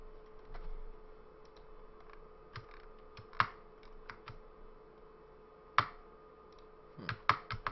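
Keys clatter on a computer keyboard at a trading desk, scattered quick clicks with a few louder taps, close and fairly quiet over a steady low hum.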